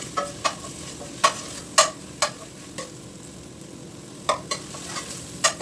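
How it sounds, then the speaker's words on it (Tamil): A pot of prawn biryani masala with tomato, ginger and garlic is stirred, the spoon scraping in sharp repeated strokes over a steady low sizzle. No one speaks. "நல்லா கிளறலாம்."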